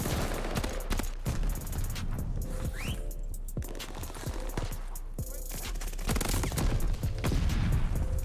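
LMG fire in Call of Duty: Vanguard, dense rapid bursts of gunshots cracking through wood amid other battlefield shots, loud and continuous, under a player's talk.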